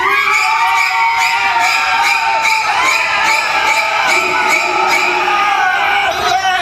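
A loud crowd screams and shrieks continuously, many voices overlapping in a sustained, high-pitched roar.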